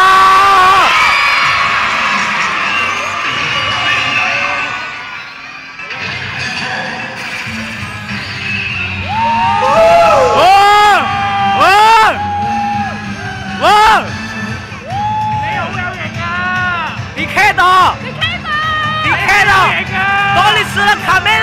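At an expo stage event, a crowd of children shouts loudly in unison on a countdown, bursting in repeated cheers and whoops near the microphone, after a host speaks over the hall.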